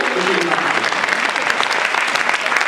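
Loud, dense applause from an audience at a Maithili children's theatre play, steady clapping filling the whole moment.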